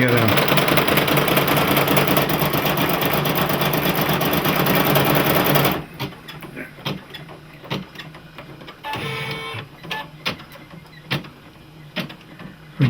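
A Brother embroidery machine stitches on leather with a fast, steady mechanical whir and rapid needle ticking, loud and close, then stops partway through, leaving scattered clicks and handling sounds.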